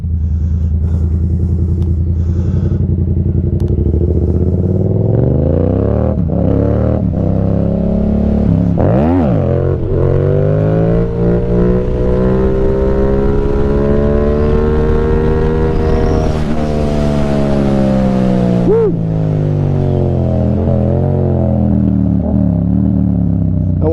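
A motorcycle revs hard and accelerates during a clutch-up wheelie, its engine loud and close with pitch climbing, dropping and climbing again across the run, and no talk over it.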